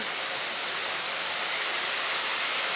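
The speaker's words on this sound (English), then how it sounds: "looks like this is the first waterfall" A steady, dense roar of falling water from a waterfall near Lake Garda, Italy, fills the scene, continuous and unbroken, heard from close by.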